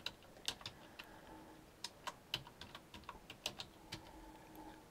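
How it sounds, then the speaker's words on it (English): Typing on a computer keyboard: irregular bursts of crisp, close key clicks with short pauses between runs of keystrokes, and no voices. "So if I just type in KarmaFlights,"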